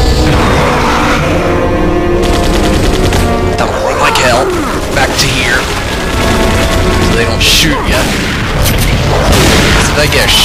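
Artillery batteries fire in Resident Evil 4 Separate Ways with loud, dense booms and crashes over a constant game soundtrack, and someone talks over the action.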